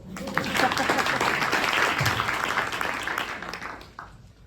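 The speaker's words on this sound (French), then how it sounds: "Merci, vous pouvez l'applaudir." An audience at a French regional business chamber morning event applauds a speaker, a broad burst of clapping that swells quickly, holds, then thins out near the end, with voices mixed faintly underneath.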